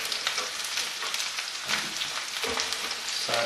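Chopped mushrooms and onions sauté in very hot oil in a fry pan, giving a steady, close, dense sizzle with a few brief louder crackles and no talking.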